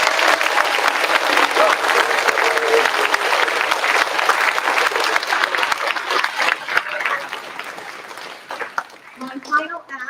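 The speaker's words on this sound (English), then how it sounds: "Give them a nice big round of applause." Audience applause for the custodial staff at an elementary school 5th grade chorus spring concert, a sustained, dense round of clapping from a large crowd that thins and fades toward the end.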